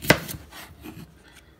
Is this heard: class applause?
no